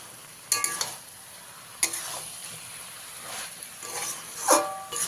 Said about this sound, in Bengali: এইভাবে মেশাতে মেশাতে শাকের যে এক্সট্রা জলটা সেইটা শুকিয়ে নিতে হবে